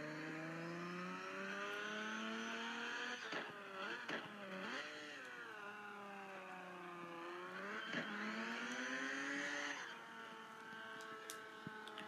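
A car with very direct steering circles a track, its engine droning steadily and rising and falling in pitch as it accelerates through and out of corners, close and continuous with no talk.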